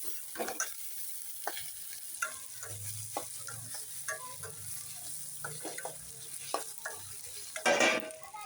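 Tomato and onions fry in a pan for prawn gravy, with a constant sizzle under repeated spatula scrapes and taps against the pan, close and alone, with one louder stirring burst near the end.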